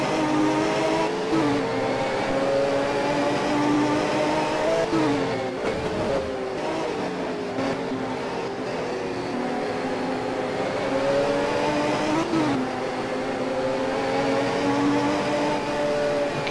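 1985 touring race cars at Teretonga International, a Mitsubishi among them, roar past with sustained engine drone that rises and falls through gear changes, steady and loud throughout.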